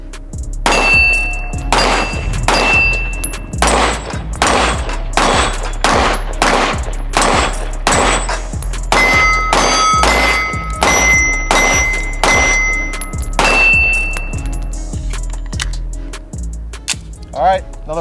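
Springfield Prodigy 1911 DS pistol firing Monarch 115 grain ammo, a long run of loud, sharp gunshots in quick uneven succession with metallic clanks between, close and dominant, with brief talk in places.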